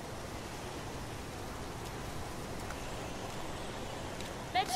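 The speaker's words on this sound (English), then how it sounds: "It's pouring rain." Heavy rain pours down in an outdoor scene of the video game Heavy Rain, a constant, even hiss at low level with no clear voices over it.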